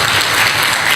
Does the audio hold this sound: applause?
yes